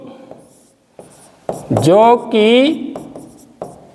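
A pen scratches out a Class 10 statistics solution by hand in short, faint strokes. A voice explains the work in Hindi over the writing and mostly covers it.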